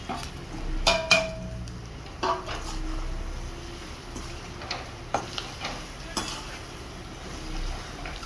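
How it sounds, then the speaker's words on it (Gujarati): Bitter gourd stir-fries in tempering oil with asafoetida and cumin for a cashew-bitter gourd sabzi, a low sizzle broken by sharp clinks and scrapes of a spoon against the pan, spaced irregularly and close by. "કારેલાનો વઘાર થઈ ગયો છે।"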